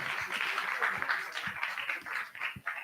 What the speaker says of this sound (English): Give a big applause to our silver sponsors